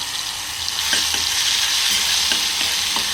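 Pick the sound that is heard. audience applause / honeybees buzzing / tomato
tomato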